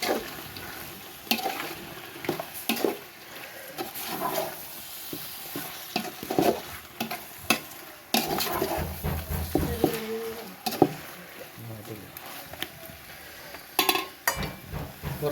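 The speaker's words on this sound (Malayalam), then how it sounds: "മല്ലിച്ചപ്പ് പുതിന അതിലേക്ക് നല്ലങ്ങനെ ആഡ് ചെയ്ത് പിന്നെ എങ്ങനെ ഇളക്കി കൊടുത്താൽ" Biryani being stirred in a pot after coriander and mint are added, with irregular scraping strokes and soft sizzling. The stirring is close and fairly quiet, and no one speaks.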